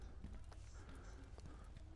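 Footsteps in the PSVR video game Firewall: Zero Hour thud in an irregular run of quick steps amid busy game noise, faint and somewhat distant.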